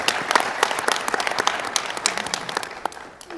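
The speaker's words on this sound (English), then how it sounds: "Let's have a round of applause for all of our candidates running for magistrate judge who are here with us tonight." Audience applause for magistrate judge candidates at a primary election candidate forum, brisk clapping from a modest crowd that tapers off toward the end.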